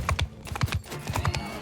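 Horse hooves gallop in the video game Mount & Blade II Bannerlord, a loud, close, rhythmic clip-clop of paired hoofbeats repeating steadily throughout.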